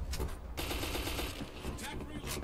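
Rapid gunfire in the game Black Squad, with a marksman rifle such as the MK14 in use, as repeated sharp bursts at moderate loudness under a steady background.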